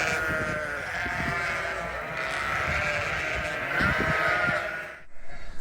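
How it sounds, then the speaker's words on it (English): Sheep bleat steadily on a farm, a dense chorus of overlapping calls close to the listener that stops abruptly near the end. "I have a very eager congregation of sheep who are wanting to know what I am doing"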